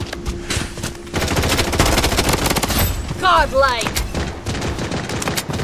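The player's VSS rifle with a new magazine fires rapid bursts during a first-person shooter match, loud and dense, with a short spoken game announcement partway through.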